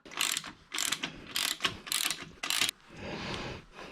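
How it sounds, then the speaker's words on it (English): Nuts being loosely threaded by hand onto a lower steering shaft mount, a series of short, bright metallic ratcheting and rattling bursts up close, with a softer scraping tail at the end. "Now, I guess let me loosely put some nuts on."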